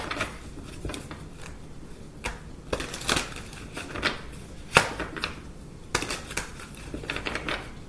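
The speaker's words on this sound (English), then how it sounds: "I'm going to shuffle" Tarot of Dreams deck by Marchetti being shuffled by hand, soft papery riffles and taps in irregular bursts, quiet and close, with no talking.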